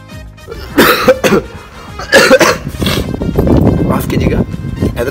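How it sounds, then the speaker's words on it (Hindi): Someone in Hyderabad gives several sharp, close coughs in quick bursts, with speaking voices around them. "खांसी और जुकाम उस समय इधर उधर निकल गया।"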